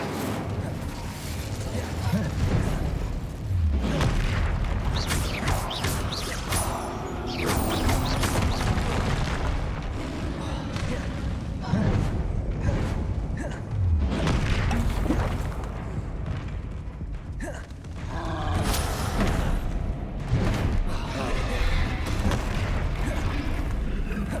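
Incendio fire spell cast in the Hogwarts Legacy video game, a dense run of whooshing fiery bursts, crackles and booming impacts layered over continuous game combat noise and music, loud throughout.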